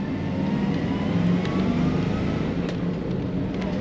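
1965 Chevrolet Impala SS two-door hardtop with its four-barrel carburetor opening under acceleration, a continuous deep V8 rumble heard from the cabin, steady and full throughout with faint road noise.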